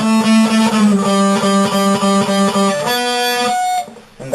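A distorted electric guitar plays a short repeating riff from a song, chugging notes in a steady rhythm before shifting to a higher sustained note.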